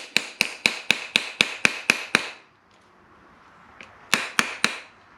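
Metal hammer blows on a spoon ring over a steel mandrel socket: nine sharp, evenly paced ringing strikes, a pause of near silence, then four more quick taps, close and loud with no talking.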